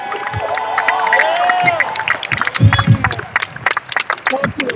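Sustained applause and cheering from a dinner-gala crowd honoring an award recipient, loud and close with whistles and shouts over the clapping, thinning slightly toward the end.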